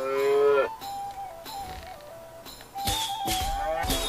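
A cow moos in South Park: The Stick of Truth, a loud drawn-out bellow at the start followed by game sound effects and musical stings.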